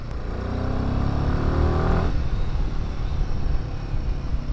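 A Royal Enfield Himalayan 450 motorcycle is ridden, with a steady engine drone and wind rush and a rising pitch as it pulls from low revs before leveling off.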